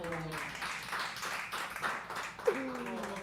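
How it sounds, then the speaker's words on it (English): Audience applause at a live poetry open mic at The Habitat, a scattered, moderately loud wash of clapping running throughout, with some voices and noise mixed in. "Thank you for that applause"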